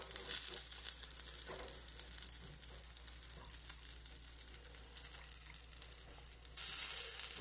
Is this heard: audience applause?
no